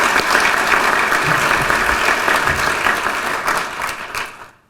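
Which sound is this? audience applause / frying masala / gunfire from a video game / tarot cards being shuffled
audience applause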